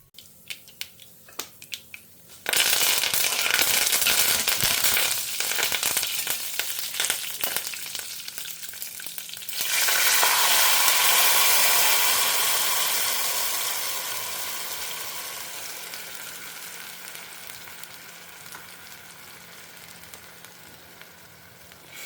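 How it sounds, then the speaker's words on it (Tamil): Spices hit hot oil with a sudden loud burst of crackling sizzle. The popping spatter stays strong for several seconds, then fades gradually into a gentler, steady fry. "ஸோ எண்ணெய் கொஞ்சம் சுடட்டும். பொரியட்டும்."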